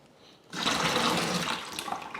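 Water poured steadily into a fermenter while brewing Coopers Dark Ale, a broad splashing rush that starts abruptly after a short quiet moment and continues loud and close to the end.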